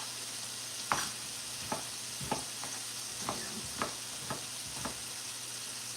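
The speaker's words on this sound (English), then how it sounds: "Give our glaze again a little stir here." Glaze for shark being stirred in a pan over a low steady sizzle, with a handful of soft clinks and scrapes of the utensil spaced about half a second apart, close and fairly quiet.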